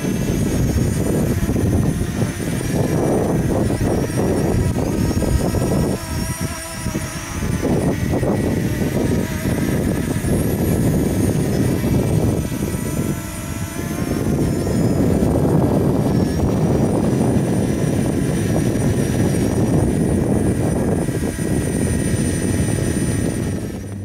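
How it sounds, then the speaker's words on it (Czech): A DJI Mini SE drone flies in strong wind, its propellers giving a steady buzzing drone with harmonic whine, loud and close throughout with brief dips, mixed with wind rumble. "Dron vítr zvládá a dle příručky zvládne vítr až do stupně 6."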